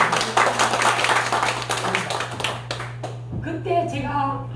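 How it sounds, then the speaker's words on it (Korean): Church congregation applauding during an elder and deacon ordination service in Songpa, Seoul: dense clapping fills the first three seconds, then thins out as a voice carries on over a steady low hum. "영광의 박수 한번"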